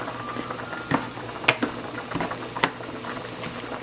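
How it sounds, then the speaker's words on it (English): Mexican rice boils in a pot on high heat, a close bubbling simmer with soft irregular pops and splutters over a steady hiss. "Once it all simmers just like it is right there, it all starts boiling all around"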